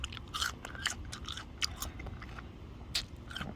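Crunchy green Thai mango of the Brom Kai Mia variety being bitten and chewed up close: a series of crisp, sharp crunches in uneven rhythm over soft mouth noise, with no talking.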